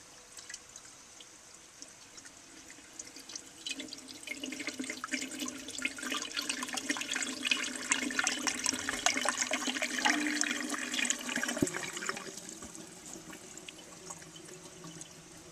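1959 Standard Modernus toilet flushing on a test station: quiet trickling swells into a rushing flush that peaks midway, then a thump and the water fading as the tank refills.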